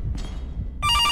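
A telephone in a horror video game begins ringing abruptly near the end, a sharp electronic trill that cuts in loud after a low, dim rumble.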